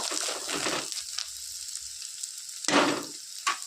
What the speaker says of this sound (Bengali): পেঁয়াজ ভাজা ভাজা হওয়ার পরে ধনে পাতাটাকে একটু নেড়ে নেব